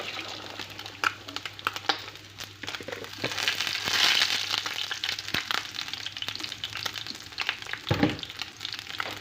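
Turkey meat frying in a pan for stewed potatoes, a steady close sizzle with crackles and scattered pops, swelling briefly midway and with a sharper spatter near the end, no voices.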